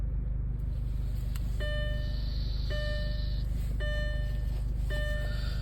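An Audi A4 with a rough-idle and stalling fault now idles smoothly as a steady low engine hum, while a car warning chime rings out four times at regular intervals.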